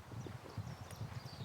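Horse hooves clip-clopping in a video game: a steady, even run of hoofbeats, fairly close and moderately loud, with no voices over them.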